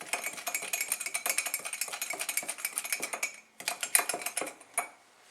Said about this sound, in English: And stir all that together.